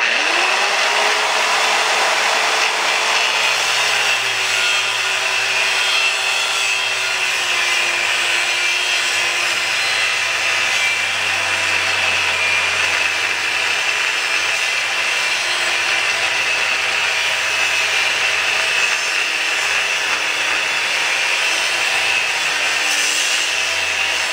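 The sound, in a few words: thin cutoff wheel on grinder cutting metal spindle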